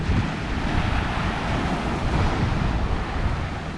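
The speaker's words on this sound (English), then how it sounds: "you can see and definitely hear these waves." Steady roar of surf washing onto a beach at Dauphin Island, Alabama, with broadband rushing noise and some wind buffeting, no voices.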